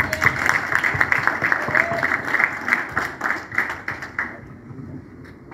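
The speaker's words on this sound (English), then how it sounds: "May we please give a round of applause" An audience at a live expo event gives a round of applause, with loud, dense clapping from many hands that thins and fades toward the end, leaving near silence.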